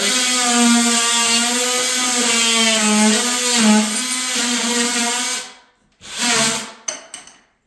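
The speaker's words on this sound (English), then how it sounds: "Take your handy dandy plunge cutter." An oscillating plunge cutter trims wooden window trim, a loud close buzzing whine held steady for several seconds, then stopping and restarting in a short burst before a few brief final touches.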